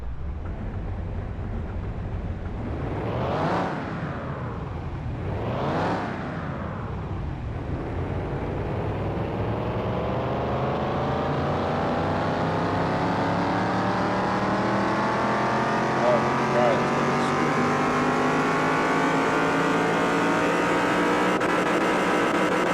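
A tuned car with a stage 1 upgrade in Car Mechanic Simulator 2021 revs twice in sharp rising-and-falling bursts, then accelerates in a long sustained climb, a loud close engine heard alone.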